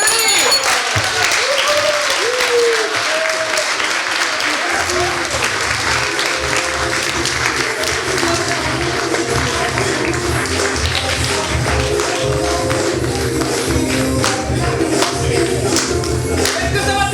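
Improv theatre audience applauding the student performers at a festival show, a loud sustained wash of many hands clapping with crowd noise and voices mixed in throughout.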